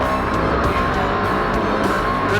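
A race car drives hard across rough desert terrain during an off-road desert race, its engine roaring steadily and loudly with continuous rumble and road noise throughout.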